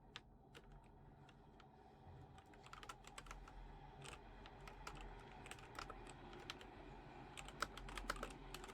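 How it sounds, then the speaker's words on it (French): Steady computer keyboard typing fills the clip, with rapid irregular key clicks and occasional louder key strikes over a low background hum, close and moderately quiet, with no talking. "le bruit de clavier qui va vous déranger"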